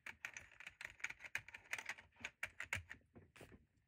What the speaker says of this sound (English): Here we have a vintage Keytronic keyboard.